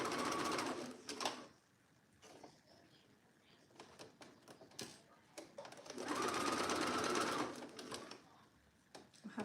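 A home sewing machine stitching an Alice top, two sustained runs of fast whirring mechanical hum with small clicks and fabric handling between them.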